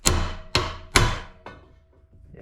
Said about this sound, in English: So let me grab a socket, we'll tap.